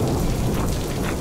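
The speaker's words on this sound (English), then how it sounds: "So it is now full-on hailstorm." A hailstorm with thunder pounds down in the Sawtooth Mountains of Idaho near the Salmon River, a loud, dense, continuous roar of falling ice and rumbling.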